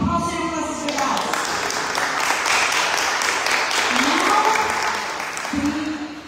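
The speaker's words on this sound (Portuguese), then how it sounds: "Aplauda o Senhor pelas verdades." Church congregation applauding in a sustained, dense wash of claps lasting the whole stretch, with scattered voices and shouts mixed in beneath.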